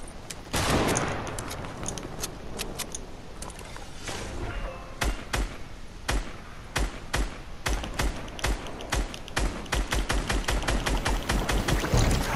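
Gunshots crack out as sharp single reports, sparse and scattered at first, then in a steady, closely spaced series of loud shots through the second half.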